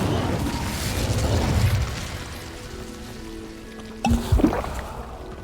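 Incendio fire spell cast in Hogwarts Legacy, a rumbling whoosh of flame at first that fades into quiet game ambience, followed by a sharp burst and a brief tone near the end.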